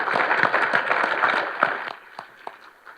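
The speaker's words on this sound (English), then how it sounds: "Let's give them all a round of applause." Audience applause for event sponsors at a Rotary economic outlook gathering, a dense wash of many hands clapping that thins out and fades into scattered claps toward the end.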